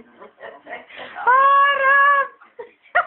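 A cat, Döme, gives one drawn-out, close, clear meow lasting about a second. Bits of quiet talk are heard before and after it.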